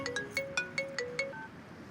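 Telephone ringtone playing during a phone call, a quick repeating melodic electronic chime of about seven short notes in a steady rhythm, moderately loud and alone.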